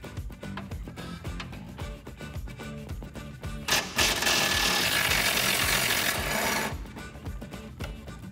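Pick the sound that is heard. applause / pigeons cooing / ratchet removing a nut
ratchet removing a nut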